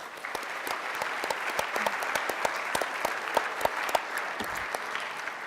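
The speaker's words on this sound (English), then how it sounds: "So give them a round of applause." Sustained audience applause fills an awards banquet hall, a dense steady patter of many hands with sharper individual claps standing out, moderately loud and continuous with no talk over it.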